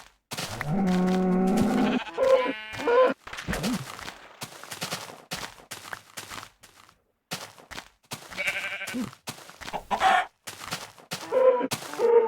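Sheep in the video game Minecraft bleat repeatedly in short, wavering calls, some overlapping, with brief pauses between bursts and other game sounds around them.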